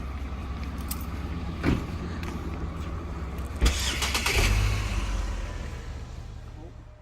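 Trucks in a convoy start up and pull away, with engine turnover bursts followed by a rising, rumbling engine drone close by as the vehicles move off, and voices talking underneath.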